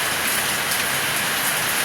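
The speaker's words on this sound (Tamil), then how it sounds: "அங்க பாருங்க எப்படி மழை பெஞ்சுக்கிட்டு இருக்குது பாருங்க" Rain falls steadily outdoors, a dense, even hiss of drops striking surfaces close by, unbroken and fairly loud throughout with no voices.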